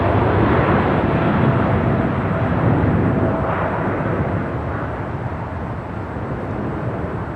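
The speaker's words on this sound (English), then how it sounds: "This takeoff is United Airlines 198 taking off to Shanghai on the 787-9 Dreamliner." A United Airlines Boeing 787-9 Dreamliner takes off at LAX, its jet engines producing a loud, broad, continuous roar that slowly fades as the aircraft climbs away.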